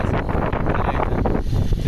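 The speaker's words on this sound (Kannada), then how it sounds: "ಇವಾಗ ಇಲ್ಲಿ ಯಾವ ಥರ ಗಾಳಿ ಐತೆ ಅಂದರೆ ಸಾಮಾನ್ಯ ಗಾಳಿ ಅಲ್ಲ." Strong mountain wind at the high Zoji La pass buffeting the microphone, a loud continuous roaring rush with gusty swells over the short stretch.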